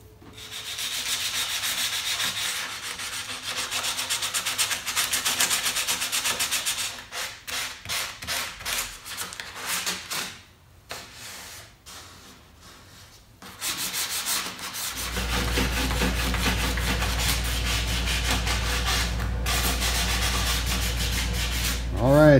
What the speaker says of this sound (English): I'm just sanding the edges a little bit on the face of them